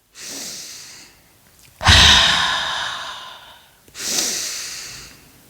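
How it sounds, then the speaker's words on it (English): Slow ujjayi yoga breathing through the nose: a breathy inhale, then a long, hissing, throaty exhale, followed by another inhale, close and alone. "you breathe in through the nose, fully expanding your rib cage and your chest"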